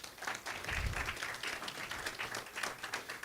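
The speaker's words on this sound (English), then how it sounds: "A warm welcome, another round of applause for him." A round of applause for a speaker at a business summit, fairly quiet and distant, with a thin, uneven patter of clapping hands that rises briefly then continues at a low level.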